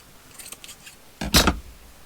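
Fabric being snipped with scissors for a freeform quilt journal cover: a couple of faint early snips, then one louder, crisp cut close by, with no talk.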